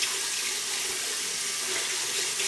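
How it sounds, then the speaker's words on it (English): A bathroom tap runs steadily into a sink, a constant close rushing splash of water heard alone with no voices. "Waiting for the water to get warm."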